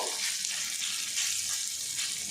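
Potato and gram flour batter, spread thin on a tawa with a little oil over very low gas, fries with a steady, soft hissing sizzle throughout, with no pauses.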